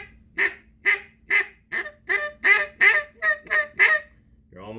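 Squeal notes blown on a duck call in a Cajun squeal sequence: about ten loud, nasal, evenly paced honking squeals in quick rhythmic succession, close up, with no voices.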